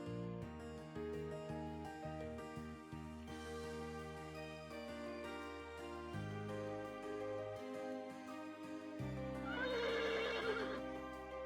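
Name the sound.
horse neighing, from a video game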